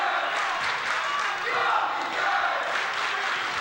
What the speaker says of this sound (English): And it sounds like the crowd loves it.